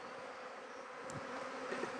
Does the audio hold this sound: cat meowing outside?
no